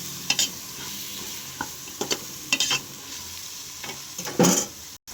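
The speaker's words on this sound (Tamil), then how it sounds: "கொஞ்சம் மசாலாலாம் கொஞ்சம் நல்லா வதங்கட்டும்" Masala sizzles and fries in a pan for goat head curry, with a steady hiss under several close scraping stirs of a spoon, one clattering louder near the end; no talking.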